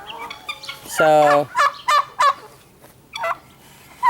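Turkeys and chickens on a farm gobble and cluck, loud rapid gobbling bursts repeating several times close by, with a brief spoken word between calls.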